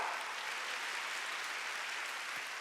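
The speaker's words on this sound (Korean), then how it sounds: "박수 치라고요." Congregation applauding in a church during a Wednesday worship service, a steady dense wash of many hands clapping at even loudness throughout, with no voice on top.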